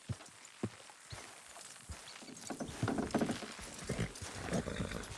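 Horses walk in Red Dead Redemption 2, their hooves clip-clopping in an irregular rhythm, at first sparse and quiet, then a denser, louder patter with creaks and rumble as the riders get moving.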